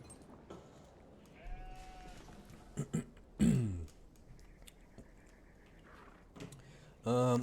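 Sheep bleat in Age of Empires IV on a dry Arabia map, a few short nasal bleats scattered among game clicks and tones, one louder near the middle and a final one at the end.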